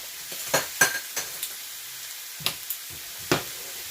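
Chicken sizzles in a pan after being flipped, a soft hiss broken by several sharp, close scrapes and taps spaced irregularly.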